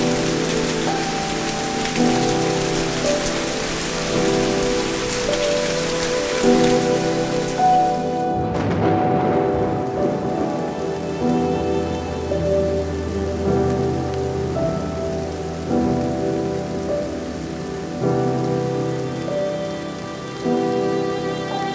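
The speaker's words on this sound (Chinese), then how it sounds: "下雨了" Steady rain hisses down over a continuous bed of music in a drama scene, the wash of falling drops loud at first, then thinning out about midway while the music carries on.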